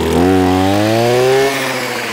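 A Husqvarna 525R brush cutter's small two-stroke engine starts and runs close by, holding a steady, buzzing, rising whine for about a second and a half before it settles to a lower idle.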